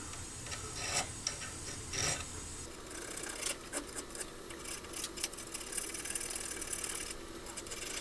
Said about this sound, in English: So now we're going to take it over to the Watchmakers vise here and get to filing.